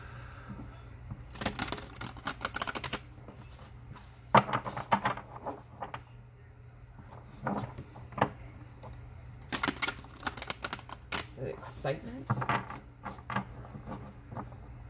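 Tarot cards shuffled by hand at close range: bursts of quick riffling and tapping clicks come in several rounds, separated by short pauses over a faint background hum.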